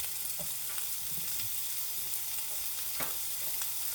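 Onions fry in a pan with a soft, continuous sizzle, broken by a few faint stirring taps and scrapes, fairly quiet and steady throughout.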